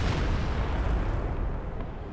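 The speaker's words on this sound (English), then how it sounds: "Massive explosion." A railway artillery strike in Company of Heroes 2 detonates in a massive explosion, a loud, heavy boom with a rumbling tail that slowly fades.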